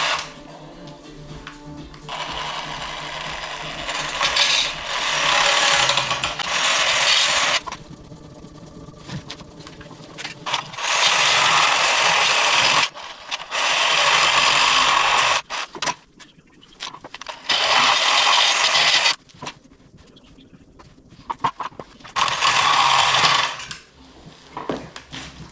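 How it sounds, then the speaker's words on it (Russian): A power saw runs in repeated loud bursts of several seconds each during masonry and fireplace work on a loft wall, with quieter gaps of rattling and handling in between. "Опять пила."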